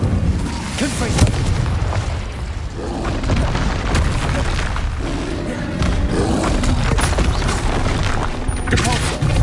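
Confringo fire spell blasts in the Hogwarts Legacy video game boom loudly in rapid succession, heavy rumbling explosions layered with battle noise and a voice calling out.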